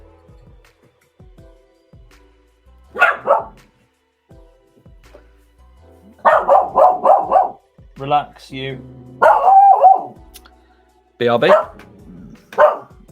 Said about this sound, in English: There's a dog bark.